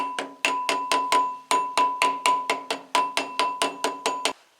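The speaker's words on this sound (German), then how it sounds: "Wenn sie mal ansitzt, können wir sie vollständig in Position schlagen." A radial sealing ring is hammered into place on a Porsche 944, about twenty loud, evenly spaced ringing metallic blows struck in quick rhythm, close up and alone, then stopping abruptly.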